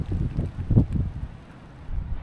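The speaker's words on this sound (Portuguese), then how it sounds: "Olha só o barulho do vento." Wind gusts before a storm near Três Marias, buffeting the microphone in low rumbling bursts that swell, drop away and return.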